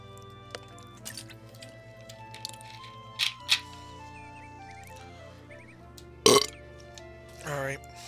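A man burping several times while playing the video game Daggerfall, loud close belches scattered between quieter game sounds and background music, the biggest one sharp and sudden near the end.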